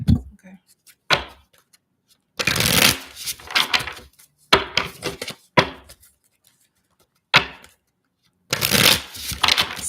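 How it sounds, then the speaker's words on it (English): Tarot cards are shuffled in several separate riffling bursts, close and fairly loud, with short pauses between bursts and a talking voice in between. "Let me get a really good shuffle"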